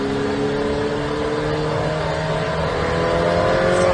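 A Ferrari F8 twin-turbo engine drones steadily and climbs gradually in pitch as it accelerates on a track, loud and continuous throughout.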